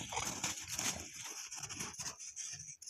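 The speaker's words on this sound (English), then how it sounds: "we're getting some entertainment from the dogs here" Dogs play and wrestle outdoors in a spruce woodlot, with busy scuffling, growls and snarls in continuous rough bursts, fairly close.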